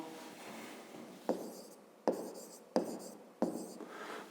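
A pen or pencil writes out a math solution in four separate short strokes, each one starting with a crisp scratch and fading away, close and fairly quiet, with no talking.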